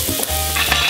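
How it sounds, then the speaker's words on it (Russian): Vegetables sizzle steadily in two to three tablespoons of hot oil in a pan, a close, continuous frying hiss with a brief stirring scrape. "И буду жарить,"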